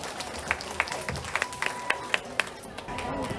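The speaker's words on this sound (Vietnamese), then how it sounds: "Mời quý vị hãy cùng nổ những tràng pháo tay thật lớn để cùng chào đón tiết mục này ạ." Scattered hand clapping from an audience welcoming a Hanoi Chầu Văn (hát văn) folk ritual singing performance, with sharp separate claps rather than a full ovation over a busy room murmur.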